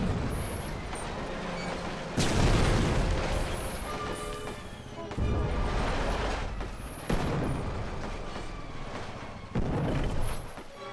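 Tanks in a Roblox World War I game rumble on as a continuous loud, gritty engine roar, broken by several heavy booms or impacts spaced a few seconds apart.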